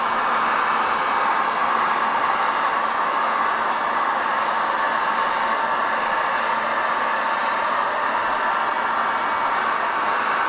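Heat gun blowing steadily while shrinking window tint on a Ram truck windshield, a continuous airy fan roar at an even level with no breaks.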